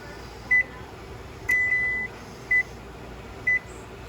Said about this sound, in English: Put a timer on.